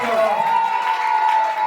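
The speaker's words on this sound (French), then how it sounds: "Est-ce qu'on applaudit encore pour Madame Zadora, s'il vous plaît?" Audience at a birthday celebration applauds in a continuous, fairly loud patter with a sustained tone running underneath, filling the whole short stretch.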